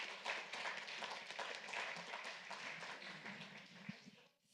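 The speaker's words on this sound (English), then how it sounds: "warm applause for the panelists" An audience at a panel event on decentralised energy investment for Ukraine claps for the panelists, a dense spread of handclaps held steady for several seconds before stopping abruptly, heard from some distance.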